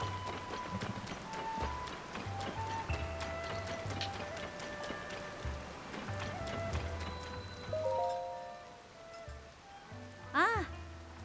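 Rain patters steadily in Zelda: Tears of the Kingdom at Kakariko, a constant soft hiss beneath game music, footsteps and a few chiming effects.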